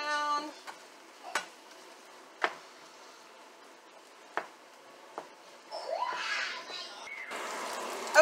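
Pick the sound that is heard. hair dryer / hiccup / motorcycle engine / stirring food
stirring food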